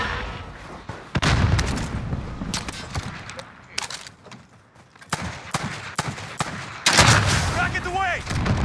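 Sharp, loud gunshots crack out in Fortnite Rebirth, sniper fire and other weapons going off in irregular bursts with short pauses, while players talk over the action.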